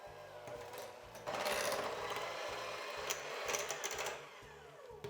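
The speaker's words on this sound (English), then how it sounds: "now you'll need an electric mixer, and you'll want to beat together the cream cheese and the sugar until everything is smooth and nicely combined" An electric hand mixer beats cream cheese and sugar in a bowl, a steady motor whir with a rhythmic clatter that grows louder and busier partway through as the beaters dig in.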